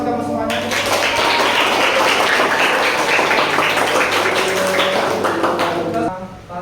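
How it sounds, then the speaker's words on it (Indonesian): Students in a classroom applaud after group discussion presentations, a dense sustained patter of many hands clapping close by, ending abruptly. "Tepuk tangan buat kamu semuanya."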